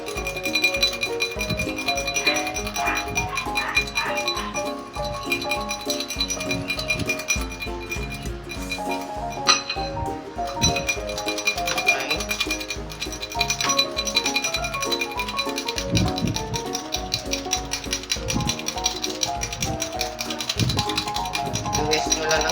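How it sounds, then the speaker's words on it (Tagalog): Metal whisk clinks steadily against a bowl as oil is beaten into egg yolk for homemade mayonnaise, a fast continuous rattling and tapping that runs loud and unbroken throughout. "I-whisk nyo lang ng ganyan."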